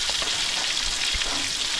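Fish fries in a hot pan, a close, continuous crackling sizzle that stays steady and bright throughout, with faint low clanks underneath and no talking.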